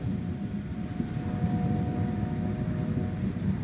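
Light rain keeps sprinkling after a storm, a steady, dense patter and low rumble that fills the whole stretch outdoors with no talk.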